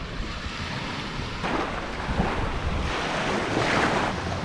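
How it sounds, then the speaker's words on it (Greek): Cold sea waves break on a shore at the foot of Mount Olympus, a continuous loud wash and rush of surf with strong wind buffeting the microphone and swells rising in the second half. "Θάλασσα, επιτέλους!"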